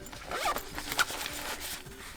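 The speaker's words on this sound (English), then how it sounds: "Have a zipper right here." A zipper on a DJI Mic 3 carrying case is pulled open in one soft, close, continuous rasping stroke lasting about two seconds.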